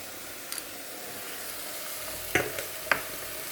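Ground spice paste hitting a hot pan of oil for a Bengali fish curry, giving a soft steady sizzle with a couple of sharper spitting crackles, close and moderately quiet.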